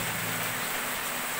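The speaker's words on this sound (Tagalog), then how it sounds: "ang lakas ng ulan din na yan" Heavy rain pours steadily in a continuous dense hiss with no gaps, close and loud, alone without any voices.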